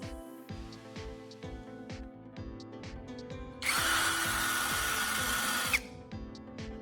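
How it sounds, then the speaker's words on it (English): A power drill bores a new hole in the side of an emptied plastic charging case, with short bursts of motor whir followed by a sustained, louder grinding run of about two seconds before it stops. "Now, I'm going to use a drill to make a new hole on the side of the charging case."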